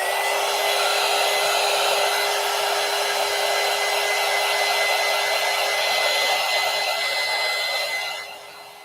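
A hair dryer blows steadily on mixed media door collages, a loud, close, continuous whooshing roar with a constant whine that fades slightly at the very end.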